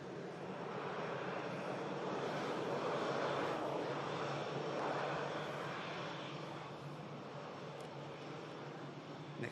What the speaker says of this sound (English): Lovely climb out from the Singapore 350.